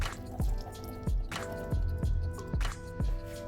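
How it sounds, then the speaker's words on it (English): Drained sweet corn is poured into jalapeño cornbread batter in wet, squishy plops, four or five close, distinct dripping splats spaced about half a second apart over a constant low hum. "we're going in with some sweet corn,"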